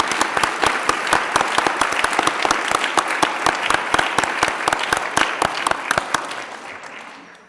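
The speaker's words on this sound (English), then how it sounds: "Can we have another quick round of applause?" Audience applause at a Teacher of the Year awards show fills the room with dense, steady clapping that tapers off near the end, with no voices over it.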